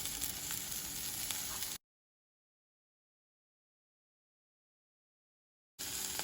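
Food seasoned with pepper powder and salt fries on a low flame, giving a soft, steady sizzle that cuts to dead silence for about four seconds before resuming.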